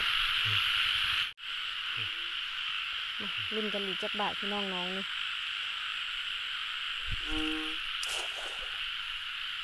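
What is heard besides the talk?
frogs croaking during first rain of the year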